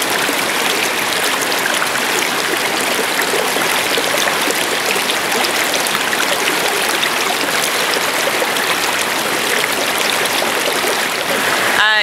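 The Guang Xi river rushes past a natural outdoor swimming spot, a steady, loud, close wash of flowing water that stays unchanged throughout.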